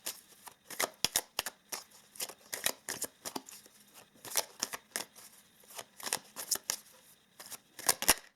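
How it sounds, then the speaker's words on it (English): Chakra Love oracle cards are shuffled by hand, a close series of crisp riffling slaps and flutters in irregular bursts, fairly quiet and alone without talk. "let us pull a couple of Chakra Love cards"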